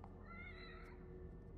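A cat in The Evil Within video game gives a single faint, rising meow that lasts under a second over low game ambience.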